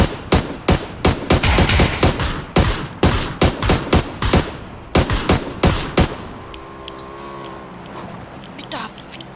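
Rapid bursts of automatic gunfire from the video game PUBG, loud and near, firing in repeated clusters for about six seconds before fading into quieter game ambience.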